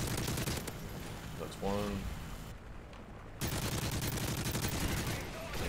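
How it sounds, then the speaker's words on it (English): Sustained automatic gunfire from Call of Duty Modern Warfare 3 rattles loudly and steadily, broken by a brief lull before another burst, with someone briefly speaking over the shots. "I'm just gonna shoot at it."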